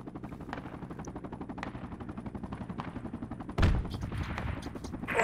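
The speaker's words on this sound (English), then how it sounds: "Yeah, they're shooting from our north." Rapid automatic gunfire in an online multiplayer shooter game, a steady rattling burst of repeated shots running for several seconds before a louder, heavier blast near the end.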